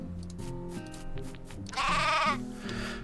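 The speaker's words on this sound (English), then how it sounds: "That sheep's going, whoa!" Sheep in the video game Craft the World bleat over background game music, with a loud drawn-out bleat standing out near the middle of the short stretch.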